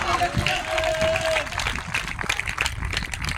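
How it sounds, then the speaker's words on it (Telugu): Congregation in a church clapping loudly, a dense, sustained roar of hands throughout with a preacher's voice and a brief tone early on over it. "చప్పట్లు గట్టిగా"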